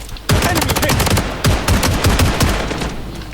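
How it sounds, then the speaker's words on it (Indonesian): Gunfire in the mobile shooter game Blood Strike: loud, rapid automatic bursts crackle in quick succession, close up and nearly continuous. "Ada yang nembak."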